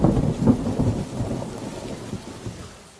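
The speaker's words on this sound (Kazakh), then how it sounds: "Мен найзағайдан қорқам." Heavy thunder rolls loud and close through steady rainfall, its booming rumble fading gradually over a few seconds with no voices.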